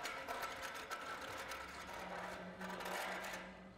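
A hand crank turns on a large steel flagpole as a flag is lowered, giving a faint, steady mechanical ratcheting and whirring with no talk.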